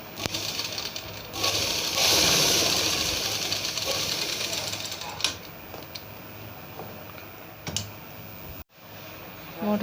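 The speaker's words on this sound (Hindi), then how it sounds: "मोढ़े की सिलाई कर लेते हैं हम" A sewing machine runs stitching the shoulder seam of a baby night suit, a steady close mechanical whir for several seconds that slows and stops, followed by scattered clicks and handling knocks.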